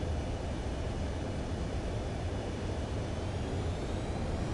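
An aircraft coming in to land on a runway in a video game makes a steady, broad engine roar and rush that holds at an even, moderate level throughout, with no voices.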